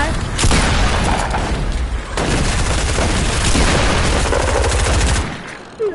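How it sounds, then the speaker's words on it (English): Rapid, dense gunfire and explosions in a zombie shooter video game, a loud continuous barrage lasting several seconds before cutting off. "I'm getting shot at from behind."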